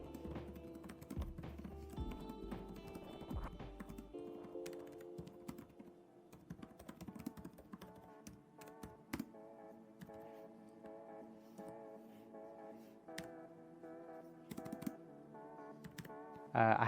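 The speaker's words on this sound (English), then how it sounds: "The keyboard is really nice to type on." Someone types on the keyboard of a Framework laptop in a steady run of close, crisp key taps, with a busier burst near the end.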